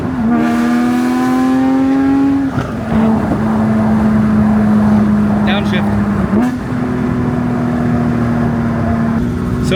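A sports car with an aftermarket exhaust revs loudly up close, the engine note climbing, holding high, dropping briefly and surging again in sustained pulls over about ten seconds.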